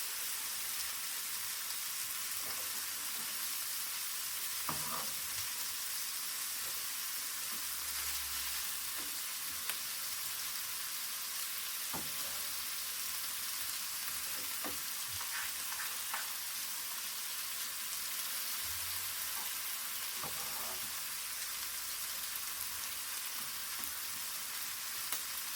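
Onions fry in burger fat on a Blackstone 22-inch E-Series electric griddle, giving a faint, even hiss of sizzling with occasional soft scrapes and taps from a spatula, no talking.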